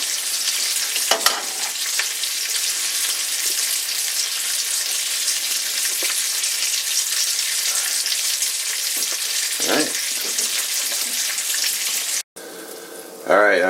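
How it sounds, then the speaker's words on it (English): Pan heating on a stove for pancakes, giving a steady, loud broadband sizzle and hiss throughout, with brief clinks and a short pause near the end. "Heating up the pan for my pancakes."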